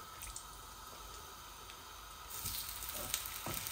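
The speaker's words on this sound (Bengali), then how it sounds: "এখানে আমি তেলাপিয়া মাছ ভাজা করতেছি।" Tilapia fish frying in hot oil, a steady close sizzle that grows louder and denser about two-thirds through, with a few sharp pops and crackles near the end.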